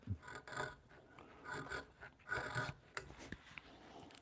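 An antique Japanese mortise chisel with a freshly sharpened edge carves a spiral ribbon rail of wood, giving close, repeated scraping and rasping strokes in uneven bursts with short pauses between cuts.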